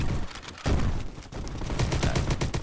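Rapid gunfire in the online shooter game Bad Business, dense overlapping bursts of shots, loud and continuous, with one brief gap early on.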